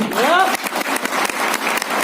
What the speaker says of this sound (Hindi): मैं चाहूंगा एक बार जबरदस्त तालियां दें